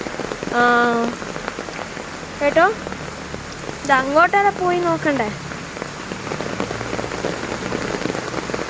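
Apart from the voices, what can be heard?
very heavy rain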